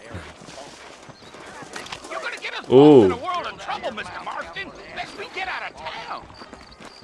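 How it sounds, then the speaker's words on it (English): Saddled horses clip-clop in Red Dead Redemption, their hoofbeats steady and mid-distance under nearly constant talking, with a brief louder vocal burst partway through. "I got the horses saddled up and ready out front."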